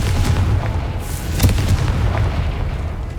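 A Confringo blasting curse exploding in Hogwarts Legacy, a loud, continuous rumbling boom with dense low-end roar and a few sharper bursts, sustained without voices.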